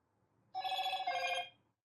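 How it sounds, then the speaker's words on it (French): A short electronic ringtone from a Motorola Edge 70 phone at maximum volume, a bright tonal burst of about a second that stops abruptly, heard alone against near silence. "la sonnerie fonctionne, elle est au maximum"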